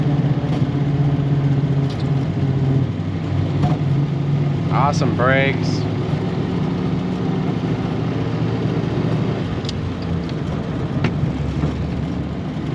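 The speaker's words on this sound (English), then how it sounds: "And a strong running V8." A 1938 Ford Deluxe Sedan with its Flathead V8 rumbles steadily as it drives, a low continuous engine drone running throughout, with a person talking over it and a brief squeal partway through.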